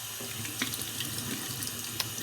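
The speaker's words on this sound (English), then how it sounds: "So we'll rinse it off here." An engraved brass coin is rinsed under a running tap, a steady close stream of water with small splashy patter and a few light knocks, no voices.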